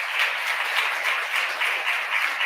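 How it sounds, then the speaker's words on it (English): Steady audience applause fills a Connecticut Kid Governor inauguration ceremony, a dense, even clatter of many hands held at a constant level with no voices over it. "Let's give a round of applause right there."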